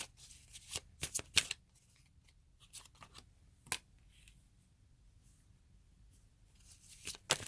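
Tarot cards are shuffled for a reading, giving a few quick riffling bursts close by, then a lone soft flick and another brief burst near the end amid near silence.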